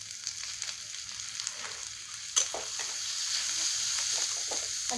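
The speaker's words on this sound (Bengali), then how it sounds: "এখন এর মধ্যে আমি চিকেনের টুকরোগুলো দিয়ে দেব।" Chicken pieces frying in a pan over a gas flame after ginger-garlic paste; a steady broadband sizzle continues throughout, with a brief louder burst midway as pieces drop in, then a slightly fuller hiss.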